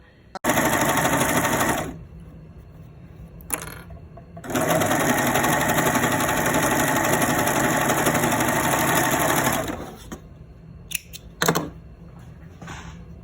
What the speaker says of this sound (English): I'm gonna use my serger, but you can use your regular machine too if you have that.